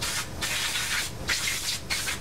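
Cleaner sprays in three short, close hissing bursts with brief gaps onto the body of an Evinrude/Johnson outboard carburetor for a 60 or 90 degree loop engine.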